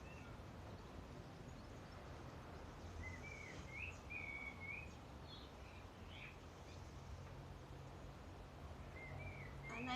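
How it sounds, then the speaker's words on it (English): Faint bird song chirps intermittently in the distance over a steady outdoor background hum. "You can hear the bird song,"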